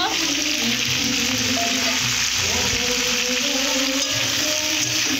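A loud, steady sizzle of food frying in a pan for potatoes and carrots, continuous and close, with faint stirring movements underneath.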